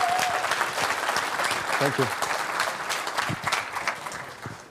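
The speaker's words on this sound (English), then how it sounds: "Let's applaud him." Audience at a FOSDEM talk applauds a presenter of an open source password manager; steady clapping fills the room and fades while someone speaks briefly over it.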